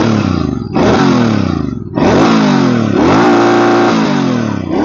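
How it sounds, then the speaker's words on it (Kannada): A stock-exhaust Royal Enfield GT650 parallel twin runs close by, its steady engine note rising and falling in a few short blips over a constant loud base, with no talking. "ಸ್ಟಾಕ್ ಎಕ್ಸಾಸ್ಟ್ ಸೌಂಡ್ ಹೆಂಗಿರುತ್ತೆ ಅಂತ ತೋರಿಸ್ಕೊಡ್ತೀನಿ. ಐಡಲ್ ಅಲ್ಲಿ ಇದು ಸೌಂಡ್,"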